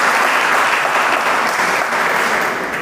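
Audience applause at a Hindi poetry recitation, dense close clapping from a seated crowd that holds steady and begins to taper toward the end, with no talking.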